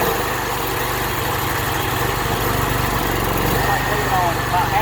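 A Polaris UTV engine idles steadily on half choke, a loud continuous low mechanical drone with slight roughness, heard up close with ambient outdoor noise.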